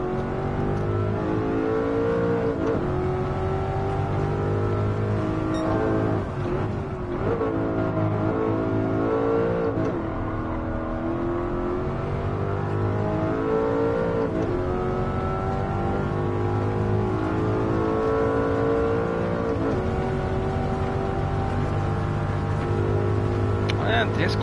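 Simulated Mercedes-AMG C63 engine from Gran Turismo 7 on a circuit, revving up and down continuously with repeated gear-change dips, loud and steady throughout, with someone talking over it at times.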